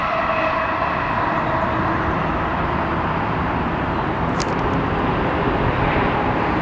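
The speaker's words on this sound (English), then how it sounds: "Just waiting for this train to pass." Train passing close by, a loud, steady rumbling roar that holds without a break from start to finish, with a brief higher squeal near the middle.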